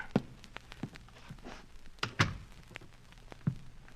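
A door closing in an old-time radio detective drama, a few dull thunks and knocks in a quiet room, with one heavier closing thud in the middle.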